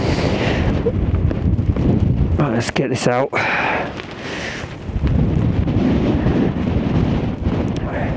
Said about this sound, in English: Yeah, we are windy.